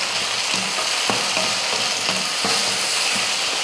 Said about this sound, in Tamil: தக்காளி, 2 தக்காளி, அதையும் வதக்கிடலாம்